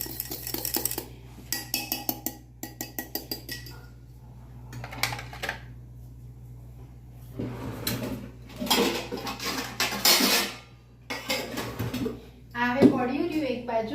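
Eggless coffee cake batter stirred in a bowl, with quick bursts of utensil clatter and scraping against the bowl, pausing and resuming, and a voice talking at times between the stirring.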